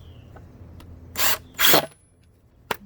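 A screw is driven into the wooden side of a garden box in two short, whirring bursts close by, followed by a single sharp click.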